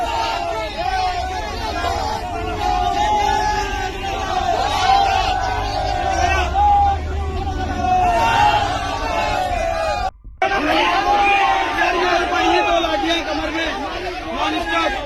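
A large, angry crowd chants and shouts slogans during tense unrest over a beef rumour in Haldwani, a dense, continuous roar of many voices rising and falling, with one brief break near the end.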